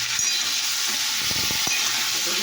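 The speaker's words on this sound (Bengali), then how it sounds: "5 ফোড়ন দিয়ে সরষের তেল দিলাম, 5 ফোড়ন দিয়ে একটু নাড়ছি" Five-spice seeds sizzle steadily in hot mustard oil in a pan, a constant bright frying hiss with a few soft stirring knocks, close and alone.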